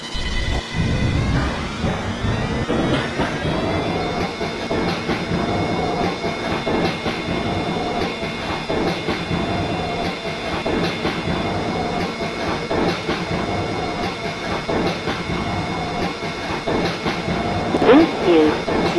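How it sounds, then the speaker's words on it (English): R143 Siemens subway train on the L line in Roblox, a steady rumbling roll on rails with rhythmic clickety-clack, close and continuous throughout. "This is a Ridgewood bound L train."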